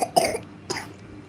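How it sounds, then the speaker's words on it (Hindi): A child coughs twice, a short close burst followed by a second softer cough, with a quiet room behind and no talking. "खांसना नहीं है, बोलना है।"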